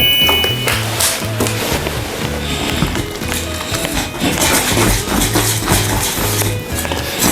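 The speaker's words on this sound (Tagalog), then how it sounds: "whisk lang po natin siya" Brisk, repeated clacking of a whisk against a bowl as fish katsu batter is mixed with added water, in bursts of rhythmic tapping and scraping.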